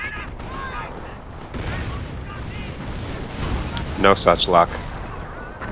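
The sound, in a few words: rocket artillery and gunfire in Company of Heroes video game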